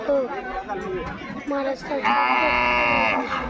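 Several loud, drawn-out moos from bulls close by at a bullock race ground, one overlapping another, over a murmur of crowd chatter and voices.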